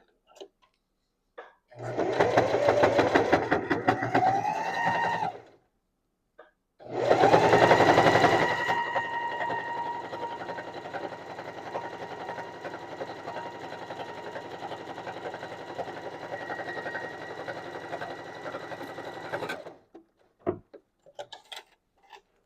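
A sewing machine stitches a seam through four layers of fabric on a throw pillow. It runs as a loud, steady mechanical whir in two bursts, then holds a long continuous run before stopping.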